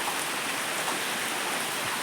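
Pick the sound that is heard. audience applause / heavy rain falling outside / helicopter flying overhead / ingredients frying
heavy rain falling outside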